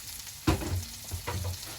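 Pork chops in a savory herb-and-spice marinade sear in a hot pan, a sudden loud sizzle bursting up as the meat hits, then easing into a steadier crackle with a second flare of spitting about a second later.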